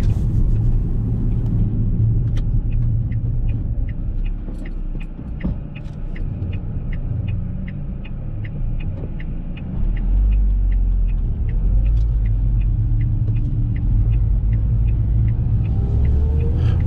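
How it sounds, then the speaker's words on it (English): A car driving along the Kirkstone Pass on the A592, a loud steady engine and road rumble from inside the cabin with a faint rhythmic ticking, the drone swelling briefly partway through. "we've decided to head north and drive along the Kirkstone Pass."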